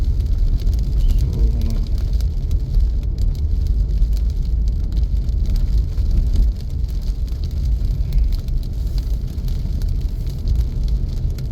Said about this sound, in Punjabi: ਕੁਝ ਰੁਕ ਰੁਕ ਕੇ ਮੀਂਹ ਪੈ ਰਿਹਾ ਹੈ